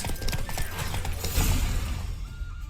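Horse galloping in The Witcher 3, hoofbeats thudding quickly and steadily up close amid a busy mix of clattering game sounds.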